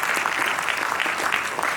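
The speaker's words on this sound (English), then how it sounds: "Please applaud for it." Steady, dense applause fills a graduation ceremony hall at the BMICH, a crowd clapping continuously and evenly throughout with no pauses.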